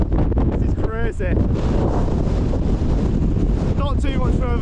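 Strong gusty wind roars and buffets the microphone on an exposed fell summit near Branstree and Selside Pike, loud and continuous, with a voice breaking through briefly in a couple of spots.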